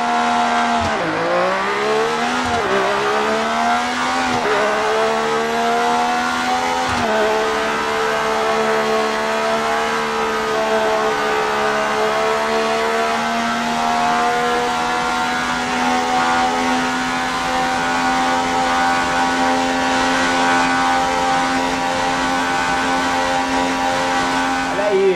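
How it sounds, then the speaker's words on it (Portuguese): In the F1 2018 game, the 1976 Ferrari Formula 1 car with a five-speed gearbox screams at top speed. A few quick upshifts come early, then a loud, steady high-revving engine note holds throughout. "Agora é a vez da Ferrari 76 de Niki Lauda"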